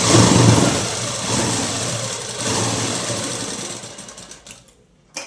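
A sewing machine runs along dress side seams with a steady, close, loud mechanical whir that slowly fades out and stops near the end, with no talking.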